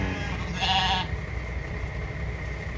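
A goat on a farm in Canada gives a single short bleat, near and fairly loud, over steady low background noise, followed by quieter ambient sound.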